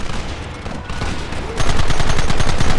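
Loud, close gunfire in a Red Dead Redemption shootout, a dense rattle of rapid shots that grows heavier and more continuous halfway through, with no talk over it.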